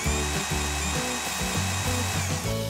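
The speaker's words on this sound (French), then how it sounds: "Percer." A power drill bores fixing holes for an aluminium sliding gate's guide rail set on the ground, a loud, close, continuous whine that rises and falls in pitch with each push.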